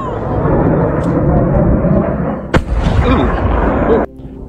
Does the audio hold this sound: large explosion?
yes